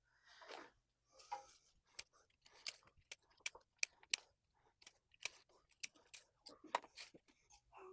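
Fresh flower stems being snipped for natural yarn dyeing, a series of short crisp cuts in an uneven rhythm, close and fairly quiet, with soft whispery rustling of plant material in between.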